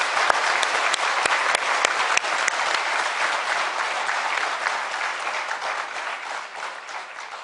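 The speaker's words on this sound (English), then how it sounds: "a great round of applause once again for the Madam Chief Minister" A large summit audience claps loudly and continuously for a Chief Minister, dense overlapping applause with a few sharper individual claps, sustained throughout.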